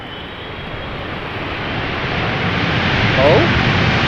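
A KLM Boeing 777-300ER jet arrives at Amsterdam Schiphol in crosswind conditions, its broad engine roar building steadily and growing louder as the aircraft approaches.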